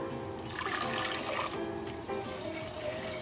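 Hot water pours steadily into a lemon whip dessert mixture in a pot on an unlit gas stove, a continuous close splashing rush with no pauses and no voices.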